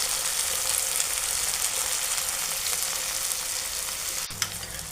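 Onion and chopped tomato with a little salt fry in a pan, making a loud, dense, continuous sizzle that stays even throughout, with a brief clack near the end.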